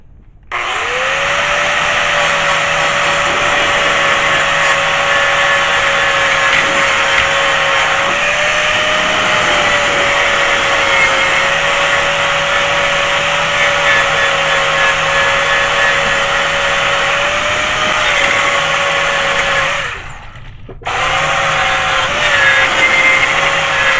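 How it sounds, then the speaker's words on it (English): An angle grinder cleans rust and primer off metal to prepare it for welding on a 1966 Mustang, a loud, steady high whine running nearly unbroken, with one brief dip before it resumes. "so I'm going to get my grinder"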